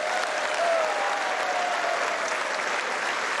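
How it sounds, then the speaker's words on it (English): Members of Congress applaud King Charles III, a dense, sustained wash of clapping from a large crowd in a big chamber, even and unbroken throughout with a faint tone running beneath it. "Yet more applause."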